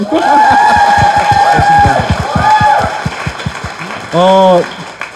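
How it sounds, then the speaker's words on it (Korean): A few people in a Korean talk-show studio give a round of scattered handclaps, sharp and close, over lively overlapping talk and laughter. "박수!"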